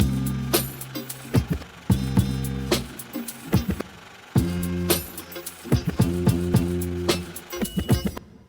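A chopped, stuttering sample processed with a stutter effect in Logic Pro X repeats in short bursts with abrupt cut-offs and rapid retriggered hits, looping rhythmically with no voice over it.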